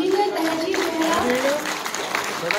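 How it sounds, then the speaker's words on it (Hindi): A crowd applauds a newly appointed engineer at an official appointment-letter ceremony, loud and continuous, while a voice speaks over the clapping through most of it. "कृपया आप लोग जोरदार तालियों से हमारे घर में स्वागत करें"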